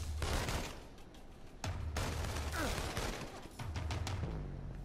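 Bursts of gunfire ring out in the video game Second Son, with sharp, scattered shots and rapid volleys against a noisy game backdrop.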